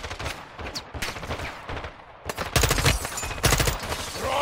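Gunfire in the Call of Duty: Modern Warfare 2 campaign, firing through a doorway at armored enemies: loud bursts of automatic fire and sharp shots, sparser at first and then dense and sustained in the second half.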